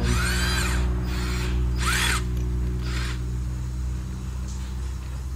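Power drill with a keyed chuck whirring in short bursts, pitch swooping up and down as the trigger is squeezed and released, close and loud over a steady low background hum.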